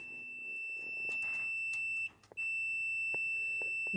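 Microwave oven alarm sounding as the door closes, a continuous high-pitched ringing tone that cuts out briefly partway through, with clicks and handling knocks around it and no talk.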